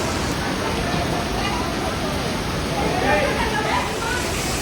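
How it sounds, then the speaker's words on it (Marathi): Dhareshwar waterfall near Marleshwar temple during monsoon rain, a dense continuous roar of falling water and rain with a crowd murmuring faintly underneath. "धारेश्वर धबधबा."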